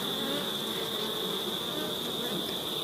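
Honey bees hum and buzz steadily around an open hive during a beekeeping check in Jamaica, a constant, fairly faint drone with a bright whine running throughout and no clear voices.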